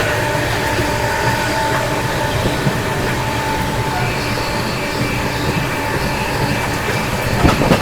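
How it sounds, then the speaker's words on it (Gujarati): A fast train rumbles and rattles continuously with a steady clatter and roar, loud and close, heard from inside a swaying moving carriage. "આ જો તારે ટ્રેન બહુ સ્પીડમાં છે અને બહુ હલે છે"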